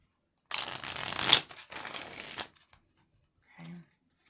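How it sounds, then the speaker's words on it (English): Tarot cards shuffled by hand in a quiet room, a dense burst of riffling and flicking for about two seconds, then a few softer brushes and a short faint murmur near the end. "I'm going to shuffle again here because I wasn't really concentrated."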